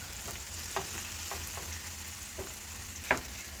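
Ground meat for chili, not fully defrosted, browns in a pot with a steady close sizzle, broken by a few sharp clicks and scrapes as it is broken apart and stirred.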